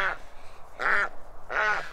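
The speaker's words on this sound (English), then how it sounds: "The quack isn't actually the best, if you know what I mean." A sick duck gives three short, strained quacks spaced evenly apart, close and fairly quiet, each call hoarse and weak rather than full.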